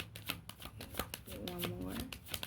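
Oracle cards being shuffled by hand during a full moon reading, quick soft riffling and flicking bursts up close while someone talks over them.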